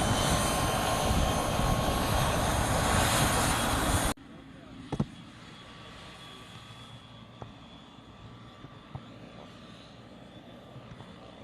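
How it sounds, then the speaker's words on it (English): A helicopter takes off nearby during storm coverage of Hurricane Harvey, a loud, dense rotor and engine roar for about four seconds, then a much quieter distant hum with scattered clicks and knocks. "Hopefully you can still hear me with this helicopter taking off."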